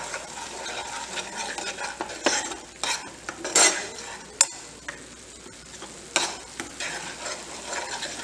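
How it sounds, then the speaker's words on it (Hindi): Schezwan sauce being stirred in a hot pan with a utensil, giving loud scraping and sizzling strokes with sharp clinks, irregular and close, with no talking. "और इसको हिला लेंगे।"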